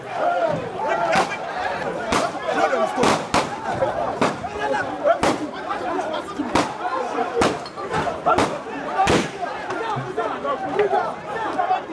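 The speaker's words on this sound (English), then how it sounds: "Our boys then gave some 6 warning shots." Gunshots fired as warning shots during a confrontation at a house: a rapid series of sharp, loud cracks, well more than six, spaced irregularly over an agitated crowd chattering and shouting.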